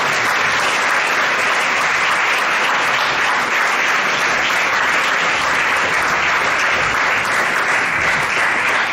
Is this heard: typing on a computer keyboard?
no